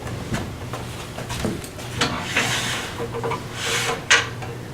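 Skew chisel cutting a hole in a wooden piece on a lathe, scraping and rasping strokes with spinning-wood rumble, a few brighter cutting bursts near the end.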